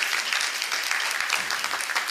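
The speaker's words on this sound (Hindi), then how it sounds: "तालियां बजाइए इनके लिए" An audience at an ISKCON question-and-answer gathering applauds a devotee, a continuous, full round of clapping close by.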